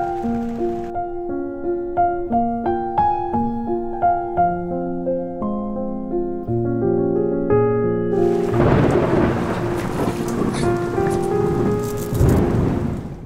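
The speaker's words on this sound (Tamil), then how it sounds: "இந்த மழை வந்து திடீர்னு வருது, திடீர்னு போகுது." After a stretch of melodic music, heavy rain pours down on a tent pitched on a rooftop terrace, a loud, dense, steady drumming and hiss.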